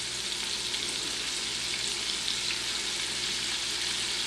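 Andouille sausage frying in a pan to render its fat for a Creole chicken and andouille jambalaya, giving a steady, dense close sizzle with no break across the whole stretch and no talking.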